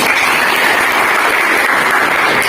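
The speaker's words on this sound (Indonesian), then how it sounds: "Ya, berikan aplaus." Audience applause after a classroom presentation in an Indonesian economics teacher-training session: steady, dense clapping from a room of people, sustained at even loudness for a few seconds with no talking over it.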